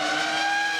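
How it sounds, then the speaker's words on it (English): A steady, high-pitched engine howl drones without a break, loud and even, with no voices. "Formula One cars have a new soundtrack through the introduction of V10 engines."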